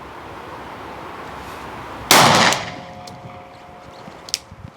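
A revolver fired at an outdoor shooting range: one sharp, loud report that rings out and decays over about a second, followed by a few faint clicks and handling noises.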